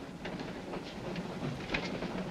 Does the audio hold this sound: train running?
yes